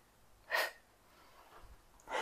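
A single breathy exhale during a beginner Pilates core exercise sounds close and brief. It is followed by quiet, then faint breath sounds and another short puff of air at the end.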